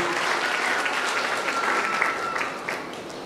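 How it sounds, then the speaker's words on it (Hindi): Applause from a seated audience at a Jain gathering, a steady wash of many hands clapping at moderate level throughout, with no talk over it. "आप सब आशीर्वाद देंगे ना, तो ताली बजा के मुझको आशीर्वाद दीजिए"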